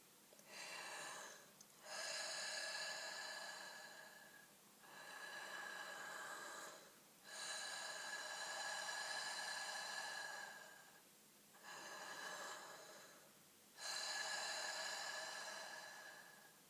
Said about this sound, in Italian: Ora respirate con la bocca. Respiro un po' più profondo del normale.